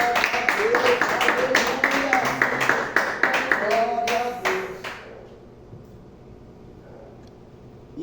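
Church congregation clapping together at a service, a rhythmic run of sharp claps mixed with voices that stops abruptly midway, leaving a quiet room.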